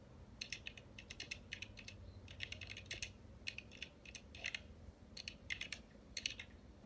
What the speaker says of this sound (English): It's his gaming keyboard.